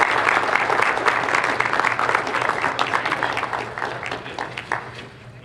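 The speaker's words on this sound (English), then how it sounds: "give them a final round of applause" A lecture-hall audience applauds steadily at the close of a public debate, a dense wash of clapping hands that slowly thins and fades over several seconds.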